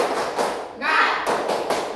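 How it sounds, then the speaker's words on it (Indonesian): Children in a classroom do the tepuk semangat clapping chant, with a few quick claps and taps mixed with chanted voices, all close and loud over about two seconds. "mari kita tepuk semangat dulu"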